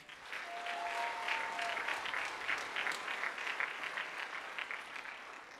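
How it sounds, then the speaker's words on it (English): Applause from a graduation ceremony audience, a steady dense patter of many hands clapping for several seconds, with faint crowd murmur under it. "Good round of applause for that."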